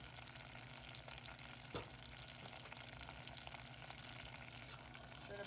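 Heavy whipping cream bubbling and sizzling in a hot pan, a steady crackling simmer with a brief clink near the start, no voices.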